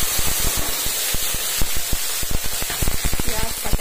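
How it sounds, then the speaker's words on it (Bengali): Onion, green chilli and chopped ginger sizzle and crackle in a hot pan, a steady close frying hiss dotted with sharp pops and spits throughout. "একটু পেঁয়াজ লঙ্কা এইভাবে ভাজি আমি"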